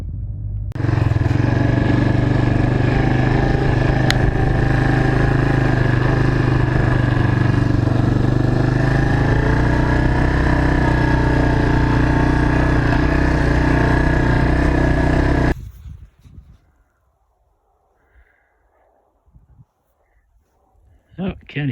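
Steady, loud engine roar of passing highway traffic heard from near a roadside by prairie fields, a continuous low rumble with tonal drone that suddenly cuts off, leaving near-quiet with faint scattered sounds.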